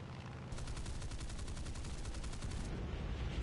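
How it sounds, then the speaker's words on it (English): A F8F-1B Bearcat's machine guns rattle in a rapid, even stream of shots at a pillbox in War Thunder, quiet and set against a steady engine drone. "I just used about 100 rounds on a pillbox and didn't kill it."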